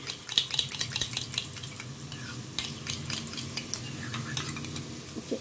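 Sour yogurt whisked with a spoon in a bowl, quick rhythmic metallic clinks and scrapes repeating close by, fairly quiet, with a faint kitchen sizzle underneath.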